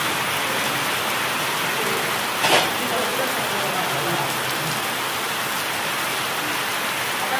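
Heavy rain driven by wind over a gymkhana ground, a dense, steady hiss without a break, with one brief louder patter midway.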